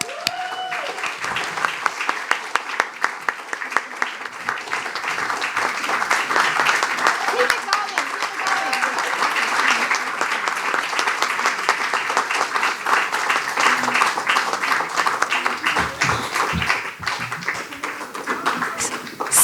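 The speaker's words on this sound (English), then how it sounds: "A huge round of applause." An audience at a live performance event gives sustained, dense applause for the returning performers, steady and full throughout, with faint voices mixed in.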